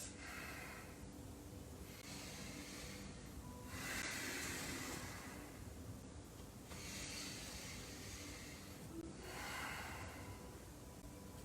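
Slow, even breathing during a strong high-lunge yoga workout, with airy inhales and exhales swelling and fading in a regular cycle about every three seconds, close and soft, with no talking.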